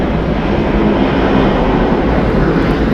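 A Boeing 717 airliner, Delta 786, takes off from runway 26 left at Atlanta Hartsfield-Jackson, a loud, steady, broadband engine roar with deep rumble, heard alone with no voices.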